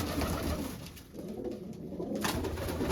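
A pigeon gives soft, low cooing calls nearby against a quiet, faintly noisy background.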